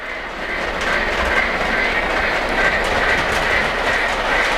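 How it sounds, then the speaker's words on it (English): A Polar Express elf work train model rolls steadily around an upper-level layout track, its wheels clicking and clattering in an even rhythm with a soft hum, close and continuous with no talking. "I think the ELF work train is much more comfortable on track number 3"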